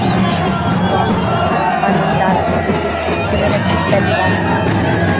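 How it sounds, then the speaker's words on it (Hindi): A large crowd at the Bishu festival fair in Kupvi, a loud, continuous hubbub of many voices mixed with general bustle, with someone talking over the din. "आज तो बहुत ज़्यादा भीड़ है, क्योंकि आज मेन विशु है तो बहुत ज़्यादा भीड़ है।"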